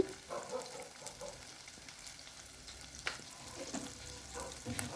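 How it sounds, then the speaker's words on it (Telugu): Ginger garlic paste fries in a pan for a taro root tamarind stew, a faint low sizzle with occasional soft spatula clicks and scrapes, quiet and close, with no talking. "ఈ అల్లం వెల్లుల్లి పేస్ట్ పచ్చివాసన పోయేంత వరకు బాగా ఫ్రై చేసుకోండి"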